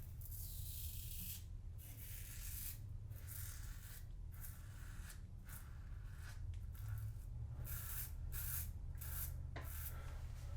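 Aggressive safety razor scraping whiskers from a face in quick, repeated rasping strokes, close and fairly quiet over a low steady hum.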